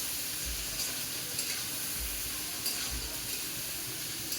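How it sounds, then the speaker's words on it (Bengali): Chopped onions and green chilies frying in a pan, a steady soft sizzle with faint hissing and occasional low clatters of stirring, fairly quiet and without voices. "পেঁয়াজগুলো ততক্ষণ ভাজবে থাকো"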